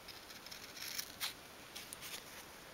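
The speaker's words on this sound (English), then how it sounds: "Just snip up there like that." Small scissors snip several times through fabric for a 1/12th scale dolls house sofa, quick, quiet close-up cuts in a short cluster with a pause between.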